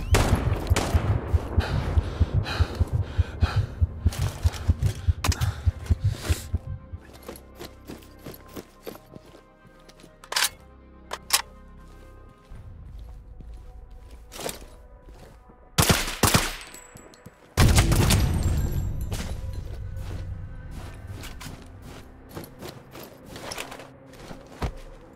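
Bursts of gunfire in the open-world military shooter Sniper Ghost Warrior 3: rapid volleys of shots for several seconds, then scattered single cracks and two heavy blasts amid game noise.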